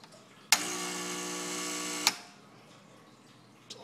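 A Gaggia espresso machine being primed gives a loud, steady pump buzz that starts abruptly, runs for about a second and a half, then cuts off into a quiet room.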